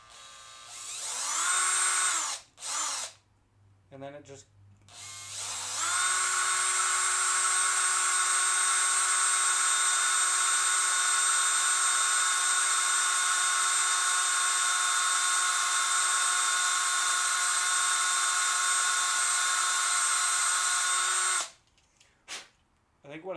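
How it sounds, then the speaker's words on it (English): A power drill bores into a Hot Wheels toy car, its bit wandering into the plastic, producing a loud, steady high-pitched whine that runs for about fifteen seconds before cutting off, with brief talk and handling noises before it starts. "I drill a massive hole because the drill bit starts to hit things and then wanders into the plastic."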